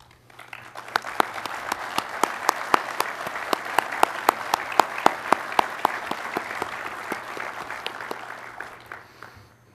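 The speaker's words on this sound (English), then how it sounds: "be recognized with a round of applause for your leadership and service" A modest audience applauds at an aviation association board event, a steady spread of individual claps with distinct sharp hand strikes, building and holding for several seconds before fading.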